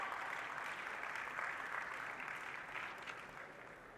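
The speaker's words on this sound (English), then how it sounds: "A huge round of applause for our paper presenters." An audience applauding paper presenters at a valedictory session of a conference, a dense, sustained patter of many hands clapping that fades slightly toward the end, with no talking.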